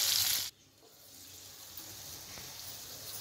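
Tomatoes roasting in a hot pan for chutney give a loud hissing sizzle that abruptly cuts off, then continues as a softer, steady frying hiss.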